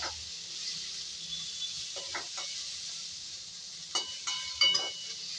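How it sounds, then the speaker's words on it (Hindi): Chopped onions with a pinch of salt sizzle steadily in a hot pan, with a few short clinks and scrapes of a spoon stirring them near the end, no talk. "तो अब अपने प्याज के अंदर हम 1 चुटकी नमक डाल के इसे मिक्स कर देंगे"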